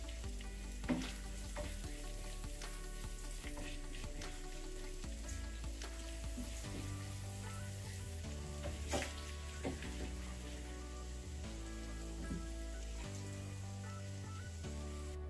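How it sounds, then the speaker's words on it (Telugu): Ginger garlic paste fries with onions in a pan for a tomato masala curry, giving a steady, close sizzle with scattered clinks and scrapes, under a low hum of background music. "1 టేబుల్ స్పూన్ వరకు అల్లం వెల్లుల్లి పేస్ట్ వేసుకొని ఇది కూడా కొంచెం పచ్చి వాసన పోయే వరకు వేయించుకోవాలి"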